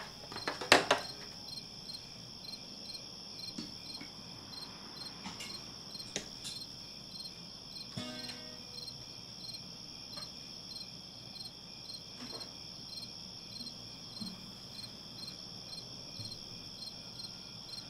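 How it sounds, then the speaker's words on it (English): Crickets chirp in a steady, high-pitched pulsing trill, faint and continuous, with a few brief clicks and knocks scattered through. "Leave you with some crickets to keep you entertained."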